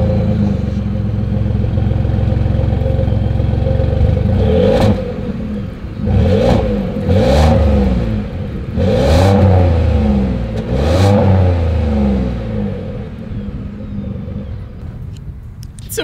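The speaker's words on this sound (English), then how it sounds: "As always, here is that exhaust clip." A 2021 Ford F-150 pickup idles with a deep exhaust rumble, then gets four or five sharp revs in a row before settling back to a steady idle. The sound comes from close by, loud, with no talking.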